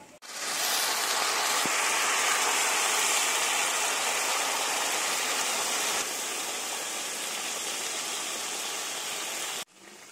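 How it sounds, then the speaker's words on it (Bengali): Hot water pours in a steady, loud, unbroken rush into a pot of lentils and rice for Bengali muri ghonto, running about nine seconds before stopping abruptly, with no talking. "ডাল আর চালের মধ্যে দিয়ে দেবো গরম জল"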